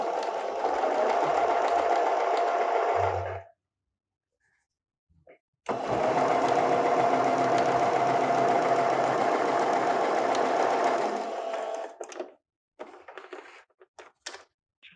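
Sewing machine stitching a French seam, two long steady runs of rapid mechanical whirring separated by a pause, followed by a few short bursts and clicks, close and loud.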